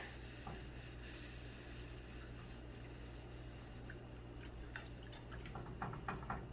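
Enchilada sauce liquid for red beef cheese enchiladas is stirred in a pan over a medium-low flame, with soft wet sloshing and a low steady hum, then sharper utensil clinks near the end.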